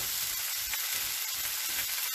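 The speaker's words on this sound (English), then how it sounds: "Can you hear me over this frying?" Food sizzles steadily in a hot frying pan during home cooking of salmon, a dense continuous crackle and hiss with faint spattering pops, close and fairly loud throughout with no talking.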